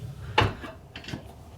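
A solid fuel stove door swung shut, giving one short knocking clunk with a faint metallic rattle after it, then a few quieter taps, close by in a quiet room.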